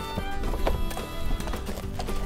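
Hooves clip-clop in a steady trotting rhythm as a toy or cartoon horse is ridden, with light background music underneath and no speech.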